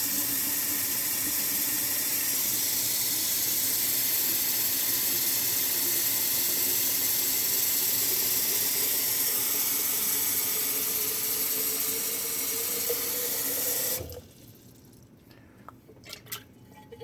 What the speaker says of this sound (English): I'm going to fill this now with very hot water.